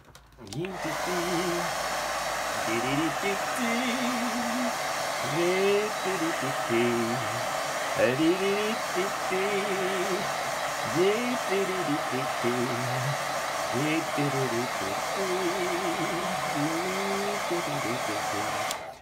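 A handheld hair dryer blows steadily on a watercolour painting for the whole stretch, a loud, even whir with a voice singing over it throughout.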